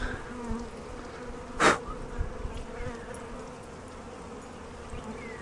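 Honeybees buzz steadily around a package being installed into a hive, a close, continuous hum with one bee zipping loudly past the microphone early on.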